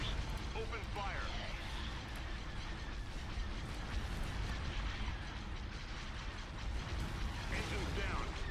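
Booming mass driver cannon blasts and rumbling explosions from a space battle with Corellian corvettes in Star Wars: Empire at War, with a voice talking over the continuous low roar.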